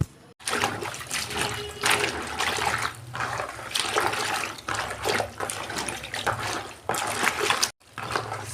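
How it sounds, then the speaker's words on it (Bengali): Chopped spinach being washed in water for a Bengali spinach curry, with steady close splashing and sloshing broken by brief pauses, no talk. "এই যে পালং শাকটা আমি কেটে নিয়েছি, এটাকে আমি ধোবো, 2-3 বার করে ধুয়ে নেব।"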